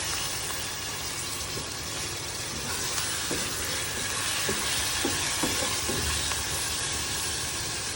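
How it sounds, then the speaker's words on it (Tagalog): Liver fries with onions in a pan for chopsuey, a dense continuous sizzle and hiss with a few soft scraping stirs partway through. "lutuin lang natin ng konti yung liver"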